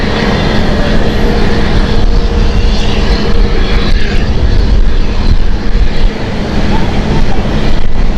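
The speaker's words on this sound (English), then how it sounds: "Look at that Apache." Close and loud, an Apache helicopter passes over Amsterdam Schiphol, its deep chopping drone and rotor throb filling the air, with a voice briefly audible.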